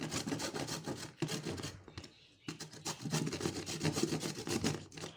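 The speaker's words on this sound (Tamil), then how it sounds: "பாருங்கள், இந்த மாதிரி துருவி எடுத்துக்கலாம்" Raw mango rubbed against a hand grater, a series of close, rhythmic rasping strokes with a brief pause in the middle before the scraping resumes.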